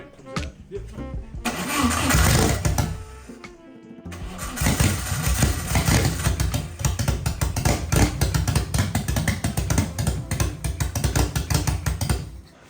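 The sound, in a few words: turbo car engine cranking and starting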